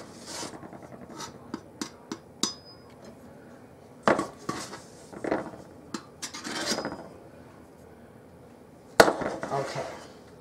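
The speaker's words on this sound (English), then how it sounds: "So I'm going to start with 3 cups of flour." Flour for no-knead bread is measured into a bowl with cups in a kitchen. Scattered scrapes, soft thuds and light clinks of utensils against the bowl come in bursts, close and fairly quiet.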